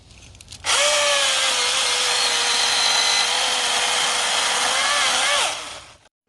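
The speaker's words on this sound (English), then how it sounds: "the Milwaukee M18 Fuel 16-inch chainsaw made pretty quick work of this around 20-foot tree here" A Milwaukee M18 FUEL 16-inch cordless chainsaw cutting through a roughly 20-foot tree: a steady, loud electric motor whine held for about five seconds, then it spins down and stops.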